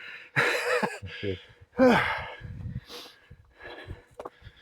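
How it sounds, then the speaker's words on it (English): Heavy breathing after climbing a steep hill in Greece, several loud sighing and gasping breaths with sniffs in between, close up, with no words spoken. "Sorry about the panting, but it's steep, isn't it?"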